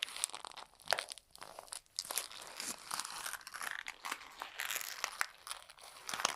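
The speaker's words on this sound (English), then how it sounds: "Or that paper crinkling." Paper being crinkled and crumpled close up for ASMR, with irregular crisp crackles and tearing-like rustles that come in bursts, quiet and intimate, with no talking.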